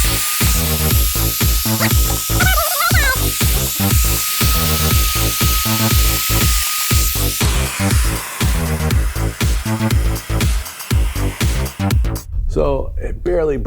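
A Festool Domino DF-500 joiner plunging into wood to cut a mortise, a loud close whine broken by repeated rapid chattering bursts and pulses, with a high motor tone that stops near the end.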